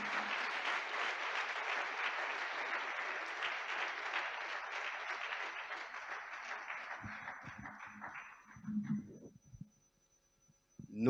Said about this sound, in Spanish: Yo creo que esta iglesia merece un aplauso.